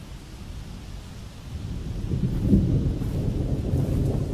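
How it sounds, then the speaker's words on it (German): Thunderstorm in the video game The Evil Within: a deep rolling rumble of thunder that swells midway over a steady wash of rain, alone without voices. "Oh, Gewitter."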